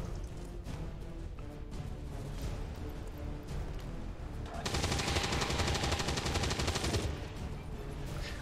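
A sustained, fairly faint burst of rapid automatic gunfire from a squad in the turn-based tactics game XCOM 2 sits within a low rumbling background and lasts about two seconds before fading back into ambience.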